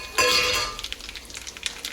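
Hot oil tempering with cumin, asafoetida, curry leaves, dried red chillies and sesame seeds sizzles sharply as it is poured over coconut chutney, a bright burst of crackling that quickly fades into scattered soft pops.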